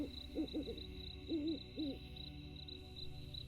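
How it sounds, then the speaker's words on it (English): Several low, wavering owl hoots sound at a distance, arriving in small clusters over a quiet background hum with faint insect buzz. "maybe even the distant hoot of an owl"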